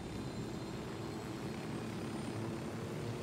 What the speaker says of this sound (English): Yeah, we're taking the chopper. Chopper time.